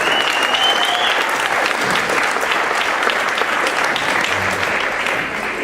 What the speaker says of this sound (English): big round of applause for the Table of Grace